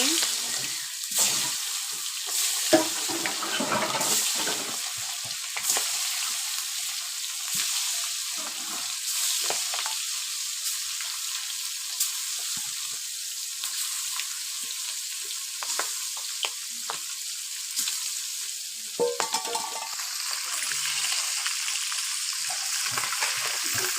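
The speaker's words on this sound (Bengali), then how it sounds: "মাছ ভাজা হয়েছে নামিয়ে নিলাম শিং মাছটা তেমন ভাজলাম না একটু কম ভাজা নিলাম" Shing fish fry in hot oil with a constant bright sizzle and scattered crackles, close and steady over a long stretch, with occasional stirring.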